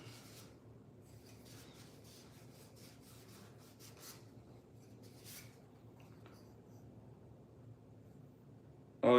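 Fine sandpaper rubs back and forth over a whittled wooden spoon in quiet, steady strokes with a soft rasping texture. A louder knock or handling sound comes at the very end.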